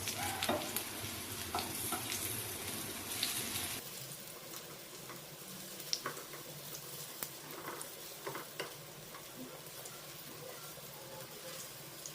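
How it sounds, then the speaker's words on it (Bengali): Egg and red lentil fritters fry in hot oil, a lively crackling sizzle with scattered pops, louder at first and then settling into a quieter, steady bubbling fry close by, with no talking. "এবার এই বড়াগুলোর দুপাশ খুব ভালোভাবে লাল লাল করে ভেজে নেব"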